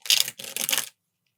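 Tarot card shuffling, two quick riffling bursts of papery flutter close by, then silence.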